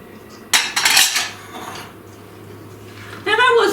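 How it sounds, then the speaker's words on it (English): A utensil folds chopped nuts into orange carrot bundt cake batter in a mixing bowl, with two bursts of clinking and scraping against the bowl separated by a quieter pause. "Now I'm gonna fold in my 1½ cups of chopped nuts."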